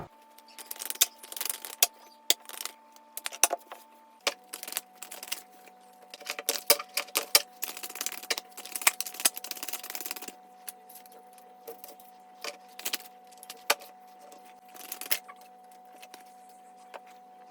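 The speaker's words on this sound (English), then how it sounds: "Let me shuffle out your cards" Tarot cards being shuffled by hand, a quick run of crisp riffling clicks and soft slaps in uneven bursts, heard close over a steady low background tone.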